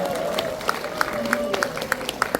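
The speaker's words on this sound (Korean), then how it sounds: "뜨거운 박수로 환영합니다" An audience at a citizens' talk concert in Gwangju claps to welcome a guest, with sharp, evenly spaced claps standing out over a steady crowd murmur and talk in the hall.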